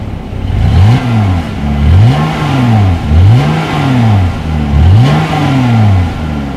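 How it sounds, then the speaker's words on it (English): A 2020 Jeep Gladiator Overland's exhaust revs four times in a row, each throaty rise and fall loud and close, idling briefly between blips. "As always, here is that exhaust clip."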